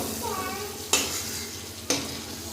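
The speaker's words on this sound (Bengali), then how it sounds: "চিংড়ি মাছগুলো ভাজা হয়ে গেছে চিংড়ি মাছগুলো তুলে নেবো" Prawns frying in oil give a close, steady sizzle, broken by two sharp clacks of a utensil against the pan.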